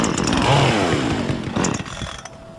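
A chainsaw motor revs loudly and close up, its pitch rising and falling in bursts before sputtering down.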